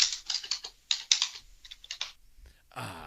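Angry typing on a computer keyboard, with rapid bursts of key clicks that are loud and close at the start, then thin into scattered taps, followed by a short noisy rustle at the end.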